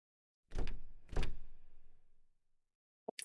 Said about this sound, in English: Emma, I can't get this door open.